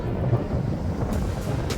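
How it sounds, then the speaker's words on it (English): Strong wind on a hiking trail buffets the microphone in a loud, continuous low rumble with gusty surges. "Woo! That wind."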